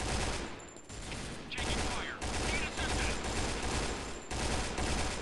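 Dense, sustained automatic gunfire from the shooter Point Blank Strike, loud and continuous with brief gaps, filling the scene with a constant crackling barrage.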